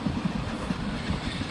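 Express train hauled by twin ALCO WDM 3D diesel locomotives, a constant low rumble with rapid rhythmic wheel clatter, close and loud throughout.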